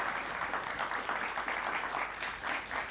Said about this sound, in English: Big round of applause for Team NextPlay AI.